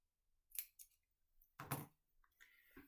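A few short, crisp snips of scissors cutting paper, spaced apart, close up in an otherwise quiet room.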